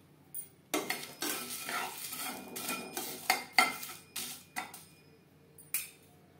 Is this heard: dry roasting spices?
yes